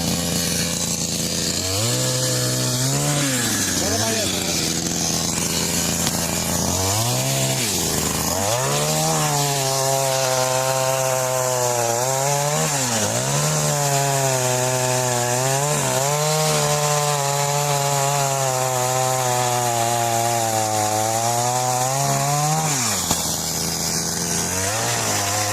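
A TCS 4600 chainsaw cuts into a tree outdoors, loud and close, its engine whining steadily with repeated revving dips and rises as the chain bites through the wood.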